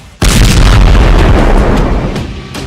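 A single loud, close boom from a rocket being shot down by Israel's missile defense system hits abruptly and then rolls into a long rumbling decay.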